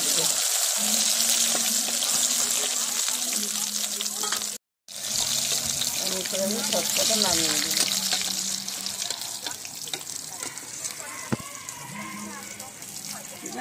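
Pieces fry in hot oil with a continuous sizzling hiss that stays loud and close throughout, broken by one brief cut. Someone talks quietly over it in places.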